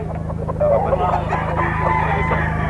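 A Super Brown Red bullstag rooster crows in a long, loud, drawn-out call close by, with other fowl clucking and a steady low hum running underneath.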